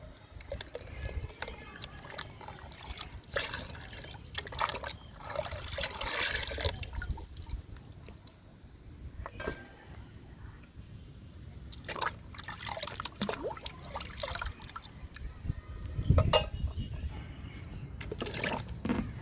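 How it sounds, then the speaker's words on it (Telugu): Potato peel liquid being poured out and trickling into water, a soft intermittent splashing and dripping that comes in bursts, fairly close and moderately quiet, with no talk over it. "ఇది బంగాళదుంప తొక్కల లిక్విడ్ వేస్తున్నానండి"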